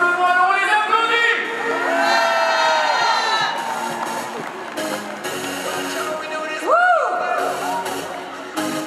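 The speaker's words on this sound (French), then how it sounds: "Alors on les applaudit." Large outdoor crowd at an evening sporting gathering cheering, whooping and shouting continuously at close range, a dense roar with voices rising above it throughout.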